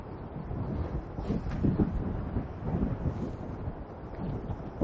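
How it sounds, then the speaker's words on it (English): Strong wind buffeting a microphone outdoors during a drone flight, a constant low rumbling roar with gusty swells, no voices. "It's getting even more windy."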